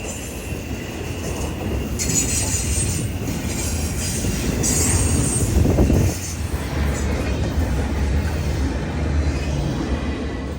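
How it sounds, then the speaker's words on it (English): A heavy freight train rumbles steadily past nearby on the Wilbur Curve in Easley, South Carolina, its wheels squealing high and metallic as the cars grind through the curve. "it's still an impressive sight to see such large freight cars effortlessly bend into the curve without tipping over"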